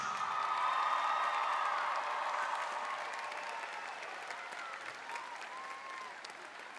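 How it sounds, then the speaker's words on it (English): A large arena crowd at a winter guard competition gives sustained applause for a high school scholarship winner, a dense even roar of clapping with faint cheers, gradually easing. "Let's have another round of applause for our scholarship winner."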